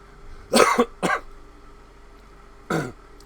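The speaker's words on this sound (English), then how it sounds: "Sorry, didn't mean to cough like that." A man coughs close to the microphone in a sharp burst of two harsh coughs, then a single further cough after a short pause, with a quiet background in between.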